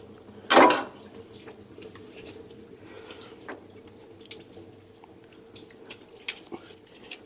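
Water leaks and drips from a hose on a Chevrolet C10's big-block 454 engine, with one louder splash followed by faint scattered drips and trickling.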